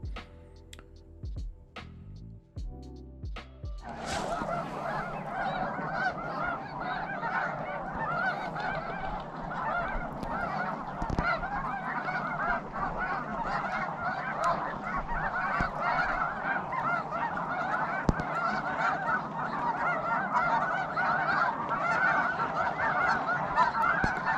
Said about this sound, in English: And of course, a bunch of sandhill cranes.